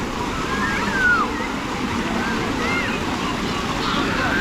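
A fountain show at Rambagh Garden in Ulwe, Navi Mumbai, with water splashing and hissing in a steady broadband wash. Voices carry faintly through the background.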